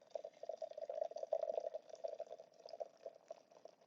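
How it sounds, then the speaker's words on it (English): Pink champagne poured into a cocktail glass for a Mother's Day drink, a steady fizzing, bubbling pour lasting about four seconds, close and fairly quiet, with no talking. "we are going to pour our gorgeous pink champagne"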